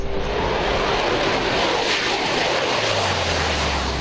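Israeli fighter jets fly over Lebanese airspace with a loud, steady broadband roar that fills the whole stretch, and a deeper rumble swells in near the end; no voices.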